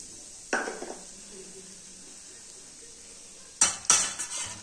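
A spoon scrapes and clinks against a pan as semolina is stirred into a little ghee, two short bursts of metallic stirring separated by a quiet pause with a soft sizzle underneath.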